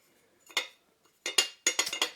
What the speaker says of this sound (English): that lovely clinking noise with that little wobble between the lid and the base